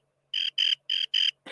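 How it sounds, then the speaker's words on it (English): Four evenly spaced bursts of a cricket chirp sound effect, bright and clear, played alone in a quiet gap of a talk show, with a short low thump at the very end. "Let Cricket do some chirping."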